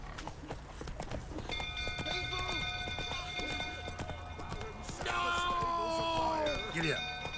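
Horse hooves clip-clop at a steady gallop in The Witcher 3, close and rhythmic beneath continuous game sounds, with a whinny rising near the end and speech mixed in.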